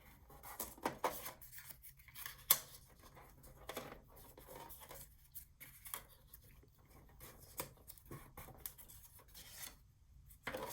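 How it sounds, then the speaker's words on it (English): Paper being folded for a small 3x4 handmade mini album, with soft rubbing, creasing and scraping strokes in short irregular bursts, close and quiet, with no voices. "So now I'm going to go ahead and fold that."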